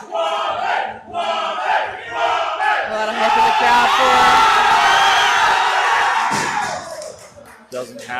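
A powerlifting meet crowd at a deadlift attempt by a teen lifter roars and shouts encouragement, rising bursts of cheering and whoops that swell into a sustained loud wall of voices before easing.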